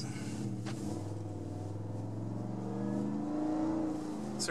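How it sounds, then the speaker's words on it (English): Roush exhaust on a 2017 Roush F-150 truck rumbles as the engine accelerates, a deep droning note that rises in pitch through the rev climb, heard close and loud with no talking. "Hear that exhaust?"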